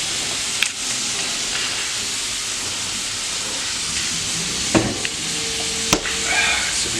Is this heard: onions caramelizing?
yes